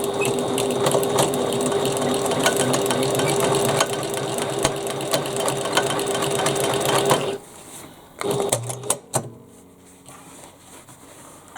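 A sewing machine top stitching with dark brown thread, running steadily and loudly for about seven seconds, then stopping and giving a few short, irregular clicks and whirs.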